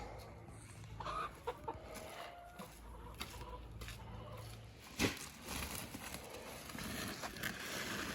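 Village chickens being kept for slaughter cluck in a farmyard, soft, scattered calls amid faint outdoor noise, fairly distant and quiet.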